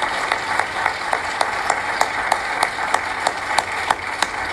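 Audience at a pitch competition applauding the teams, a dense steady wash of many hands clapping with sharper individual claps standing out in a loose rhythm, loud and continuous throughout.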